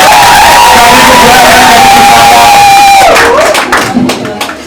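A loud crowd at a live event cheers and shouts with sustained whoops and raised voices, easing off and breaking into scattered, fading calls near the end.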